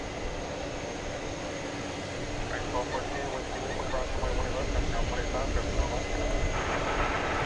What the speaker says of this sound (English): Cathay Pacific Cargo 7478 on its way to Anchorage